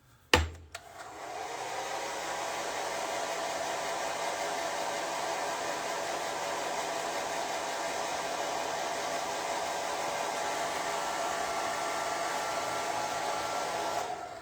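A hair dryer drying paint on a drawing switches on with a click and then blows a steady, loud, close whooshing hiss that holds evenly without pause.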